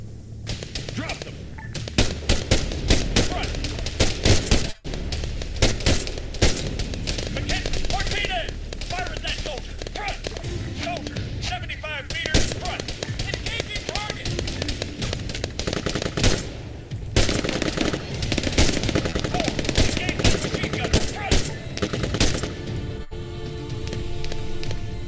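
Rapid automatic machine gun fire and scattered gunshots crackle almost nonstop in the Arma 3 video game, loud and dense bursts with radio-style voices talking over the combat.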